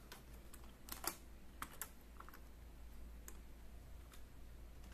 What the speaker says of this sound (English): You'll have to type in here auto print,